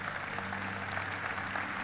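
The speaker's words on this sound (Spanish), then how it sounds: "Fuerte ese aplauso." A church congregation applauds in a dense, steady wash of clapping that fills the whole short stretch at moderate loudness, with no speech over it.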